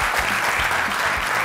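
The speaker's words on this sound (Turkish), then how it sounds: "Alkışlarla o masaya uğurluyorum sizi." Studio audience applause on a Turkish daytime cooking competition set, a steady wash of many hands clapping throughout, fairly close and full, with no talk over it.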